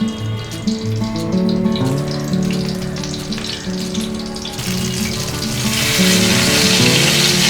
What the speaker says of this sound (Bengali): বেগুনটা ভাজতে দিয়েছি